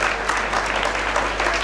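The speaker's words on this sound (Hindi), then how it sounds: "जोरदार तालियां मोहित के लिए।" An audience applauds a volunteer at a community gathering with dense, steady clapping that fills the short moment at an even level.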